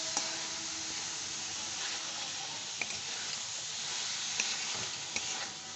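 A sweet mixture with a splash of rose water being stirred as it cooks, a steady hissing sizzle throughout with a few faint clicks of the spoon against the pan.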